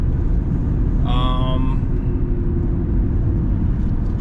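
A car driving steadily, with constant low road and engine rumble throughout and a brief harmonic whine near the start; a voice talks over it.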